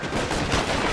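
A dense burst of loud gunfire in the L.A. Noire video game, a short, harsh, close blast filling the whole moment with no talk.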